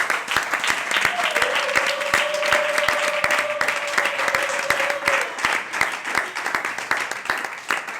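A church congregation applauding, dense sustained clapping with steady rhythmic beats and a voice rising briefly over the crowd.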